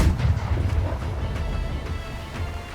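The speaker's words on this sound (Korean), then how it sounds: "자 대포 쏴요" Cannon fire in the naval battle game Blackwake: deep booming shots over a continuous low rumble, with sharp blasts repeating irregularly throughout and no voices.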